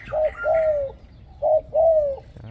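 Old decoy spotted dove in Thailand cooing in two close, loud phrases of paired notes, each a short note followed by a longer falling one, with a pause between phrases.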